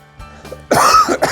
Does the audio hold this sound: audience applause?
no